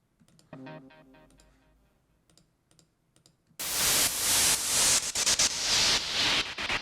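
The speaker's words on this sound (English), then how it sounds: "producer will slap some kind of random white noise that sounds like this." A few quiet tonal taps and clicks, then a sudden loud burst of harsh white-noise hiss that fills the rest, pulsing slightly.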